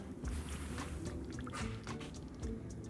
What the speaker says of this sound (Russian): И финальным ингредиентом у нас идет вода. Мы ее доливаем по плечике.